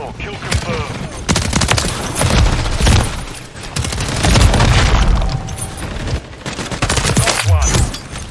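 Dense, loud video game gunfire on the Shipment map, with overlapping rapid shots, booms and automatic bursts filling the whole stretch, and game voice lines mixed underneath.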